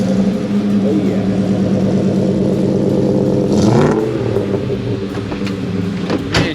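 The Coyote V8 swapped into a 1978 Ford Bronco Cruisaire Edition idles with a loud, steady rumble. Near the middle it gives one sharp rev that rises and falls, then it settles back to a lumpy idle close by.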